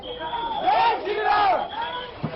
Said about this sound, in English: Listen into some of these slogans.